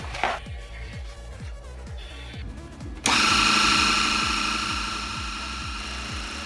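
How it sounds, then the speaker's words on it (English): A Dremel rotary tool engraves a sheet of acrylic, its steady high whine starting under a faint rhythmic thumping and then jumping louder as the bit bites in, close and continuous. "Then engraving the negative space between with my Dremel rotary tool."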